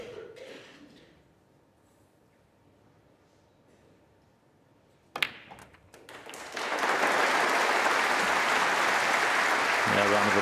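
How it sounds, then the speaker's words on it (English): A snooker audience at the 2024 Masters semi-final between Ronnie O'Sullivan and Shaun Murphy sits hushed, then a single sharp knock rings out and the crowd breaks into loud, sustained applause that carries to the end. "round of applause"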